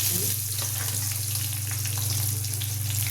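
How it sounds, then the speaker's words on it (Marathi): Peanuts and green chillies fry in hot oil in a pan, giving off a steady, close sizzle with a constant hum underneath throughout. "शेंगदाणे छान लाल झाले याच्यामध्ये घालायची हिरवी मिरची"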